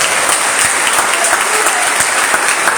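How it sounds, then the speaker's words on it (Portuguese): Church congregation applauding together at a worship service, a dense, steady wash of hand claps filling the whole stretch at close, even loudness with no talk over it. "Aplauda o nome de Jesus."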